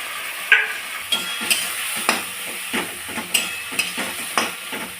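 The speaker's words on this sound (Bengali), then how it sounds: "কড়াই তেল দিয়ে দিয়েছি টমেটো, পেঁয়াজ বাটা," Tomato, onion paste and ginger paste frying in oil in a wok, with a close, steady sizzle broken by repeated scraping and stirring strokes of a spatula and an occasional clink of utensil on metal.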